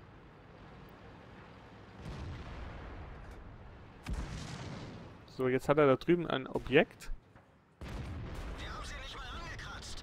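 Tank cannon shots from World of Tanks gameplay in an E-50, three fairly quiet, deep booms with rumbling tails spaced a few seconds apart, and someone talking briefly between them.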